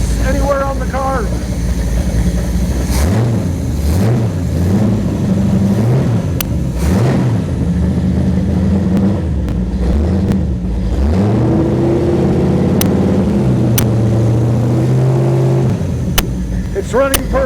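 A small test engine fitted with an Agostini carburetor runs steadily and loudly up close, its pitch rising and falling as the throttle is blipped, with a voice heard briefly over it.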